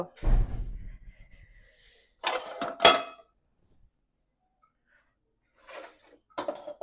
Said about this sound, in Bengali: কড়াইটা বসাই দিলাম